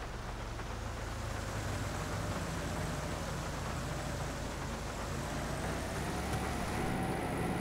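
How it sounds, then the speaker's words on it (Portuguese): Steady, dense roar of heavy rain with cars passing through standing water on a road in the video game GTA V, a continuous broadband hiss and wash without clear individual pass-bys, constant and fairly loud throughout. "Olha os carros passando tudo na água"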